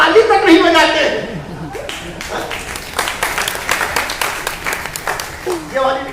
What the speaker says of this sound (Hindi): ये वाली ताली बजी थी